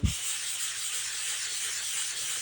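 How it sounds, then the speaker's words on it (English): Steady, hissy rubbing of wet sanding on car paint carries on without pause, an even abrasive swish up close, opened by a brief low thump. "we keep sanding till those imperfections are gone"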